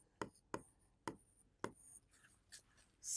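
Marker or pen strokes writing the left-hand side of an equation during an 8th-grade maths lesson, four sharp evenly spaced taps and scratches followed by softer faint strokes and a brief louder swipe at the end, with no talking.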